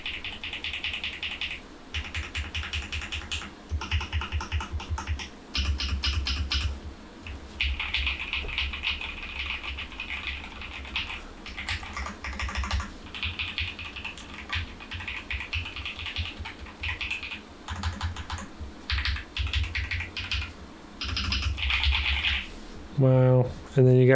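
Typing on an RK Royal Kludge S98 mechanical keyboard produces bursts of rapid clacky keystrokes in uneven runs with brief pauses, close up and fairly quiet, ending with a few louder knocks.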